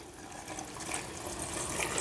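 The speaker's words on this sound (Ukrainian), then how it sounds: "Тепер ми беремо і заливаємо банку звичайною холодною водою з-під крану." Cold water from a tap pours steadily into a jar for pickling cucumbers, a close, continuous splashing hiss that grows slightly louder as it fills.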